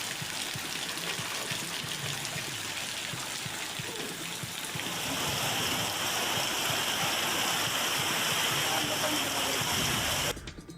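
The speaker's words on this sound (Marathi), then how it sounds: "वर्धा जिल्ह्याच्या अनेक भागात जोरदार पाऊस बरसतोय" Heavy monsoon rain pours down in Wardha district over rushing floodwater, a dense, loud, continuous hiss that thickens midway and cuts off abruptly at the end, with a voice faintly mixed in.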